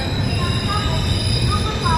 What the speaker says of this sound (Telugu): ఖుర్దా రోడ్ నుండి అయితే మన ట్రైన్ బయలుదేరింది.